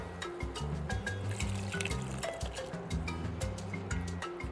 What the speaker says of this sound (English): Now that our liquid is at a rolling boil, we add our coconut milk.